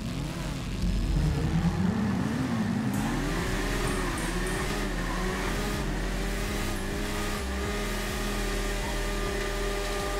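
A Yamaha R1 motorbike ridden in GTA 5 roleplay, its engine droning loudly and continuously, with the revs sweeping up and down as it accelerates and eases off.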